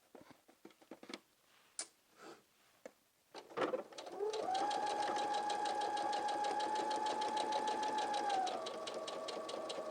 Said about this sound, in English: Then we're going to go to the machine and sew in the stitch.